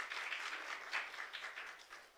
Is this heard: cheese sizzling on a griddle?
no